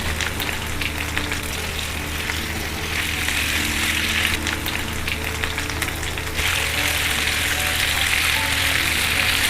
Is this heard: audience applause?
no